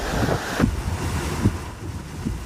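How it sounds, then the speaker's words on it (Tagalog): Heavy rain and gusting wind from Hurricane Milton, a continuous rushing roar with buffeting gusts and wind noise hitting the microphone. "Malakas na buhos ng ulan."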